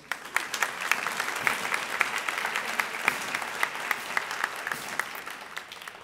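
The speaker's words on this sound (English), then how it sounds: "Round of applause for Ann." An awards ceremony audience gives sustained applause, with individual sharp claps standing out over a dense wash of clapping that fades slightly at the end.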